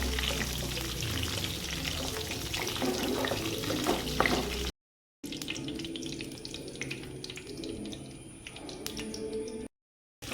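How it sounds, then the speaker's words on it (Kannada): Raisins fry in hot ghee with a continuous hiss and bubbling. The sizzle is cut by two short silent gaps and sounds close and fairly loud. "ಇವಾಗ ಅದೇ ತುಪ್ಪದಲ್ಲಿ ನಾನು ದ್ರಾಕ್ಷಿಯನ್ನು ಕೂಡ ಫ್ರೈ ಮಾಡಿ ತೆಗಿತಾ ಇದ್ದೇನೆ"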